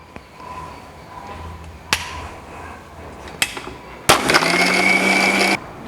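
A kitchen blender whirs loud and steady for about a second and a half while chopping ice cream, ice cubes, fresh milk and Milo mixture, after a few sharp knocks and taps in an otherwise quiet room.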